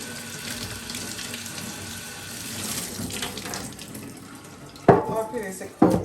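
Running tap water rinsing bleach tie-dyed cloth in a sink, a steady close splashing stream with a few louder gushes and splashes near the end, with faint talk underneath.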